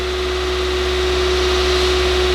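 An Opel Vivaro van's engine runs at a constant idle-like drone with a steady hum during DPF regeneration, loud and close with no change across the stretch.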